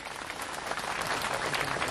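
A congregation clapping at a golden jubilee mass celebrating a parish's fiftieth anniversary, a dense, even wash of applause from a crowd, fairly distant and reverberant.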